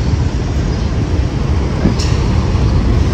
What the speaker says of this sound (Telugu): ఇది మెట్రో స్టేషన్ వచ్చేసి.